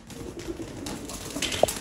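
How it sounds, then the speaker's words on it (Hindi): A pigeon, a Sialkoti flying breed, gives a soft low coo amid faint background noise, brief and close, with no talk. "ये भी भाई का दोस्तों उड़ा हुआ कबूतर है"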